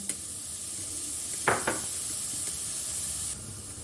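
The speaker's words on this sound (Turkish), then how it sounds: "Salçayla beraber yine 2 dakika kavuruyorum." Steady soft sizzling hiss of tomato paste sautéing in a pan for lentil soup, with a couple of brief louder crackles and stirring scrapes partway through.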